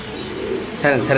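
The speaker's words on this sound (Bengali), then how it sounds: "এটাও একটা স্প্যানিশ কবুতর, নরের ডাকটা দেখাচ্ছি।" A male Spanish pigeon cooing close by, with a couple of short throaty coos near the end over a low background hum.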